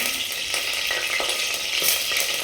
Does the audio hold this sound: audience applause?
no